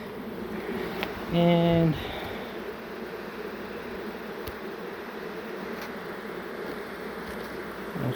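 A swarm of honey bees buzzes as a steady, diffuse hum close around the listener, with a brief tonal sound rising near the start and a single spoken word.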